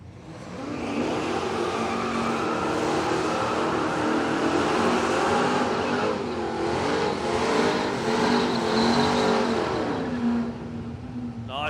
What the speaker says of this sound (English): Nice big smoky burnouts for the Falcon Ute in the speed flow lane.